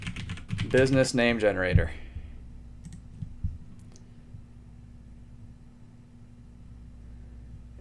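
Light computer keyboard typing follows a short spoken phrase, a few scattered soft keystrokes heard close and faint against a quiet room hum.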